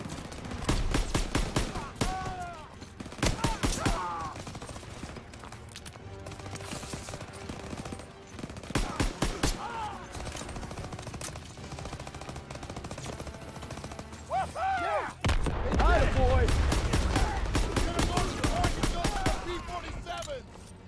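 Bursts of rifle and machine-gun fire crackle across a WWII video game battle at a stronghold, with rapid volleys and shouting voices mixed in, intensifying into heavy gunfire near the end.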